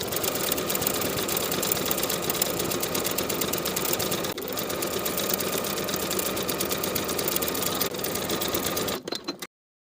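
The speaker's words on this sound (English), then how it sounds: "Then we can top stitch our seam allowance in place, sewing right next to the original binding seam." Sewing machine top stitching a knit binding seam with a narrow zigzag stitch, a fast steady mechanical whirring and clatter running continuously, briefly dipping once, then stopping abruptly.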